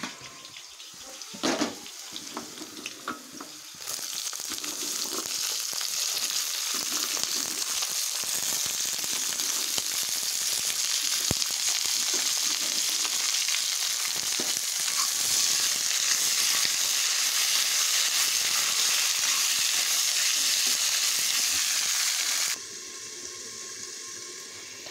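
Beans, carrot and potato stir-fry frying in a wok with onion and five-spice seeds, giving a loud, continuous sizzle that cuts in suddenly and runs steadily before dropping away.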